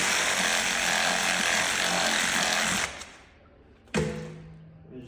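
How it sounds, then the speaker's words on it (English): A reciprocating saw cutting through deer leg bones, a loud buzzing rasp for about three seconds that stops, then a brief second burst that quickly fades. "Just use a sawzall to cut through the bones."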